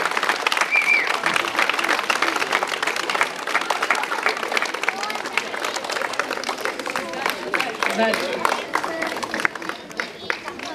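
Sustained crowd applause at a school graduation ceremony, a thick wash of clapping that holds steady for several seconds and tapers slightly toward the end.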